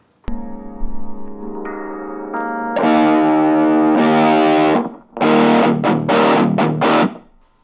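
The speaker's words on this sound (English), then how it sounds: "Let's move on to the distortion." An electric guitar played through a Donner M-10 10W amplifier's heavy distortion, first held ringing chords, then loud sustained crunchy strums, and finally a choppy run of short, punchy chords.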